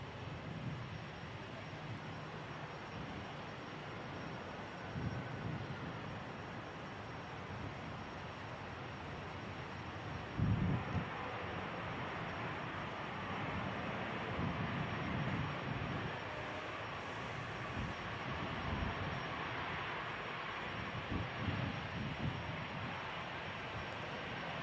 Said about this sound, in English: There was an EasyJet just touching down behind the Virgin, coming in from Malaga, Costa del Sol